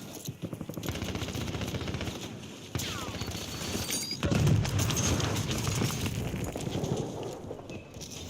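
Rapid bursts of automatic gunfire rattle in Call of Duty Warzone, with close, loud volleys sometimes merging into a dense continuous clatter and brief breaks between strings of shots.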